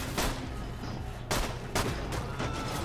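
Gunshots in the video game Borderlands 2 crack out in a handful of sharp, loud single reports with short gaps between them over a rumbling game background.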